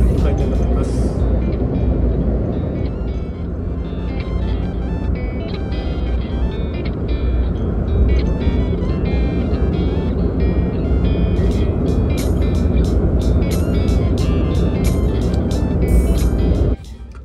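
A car driving on the road toward Kochi city, a loud steady engine and road rumble filling the whole stretch, with intermittent high ticking sounds and a voice speaking over it.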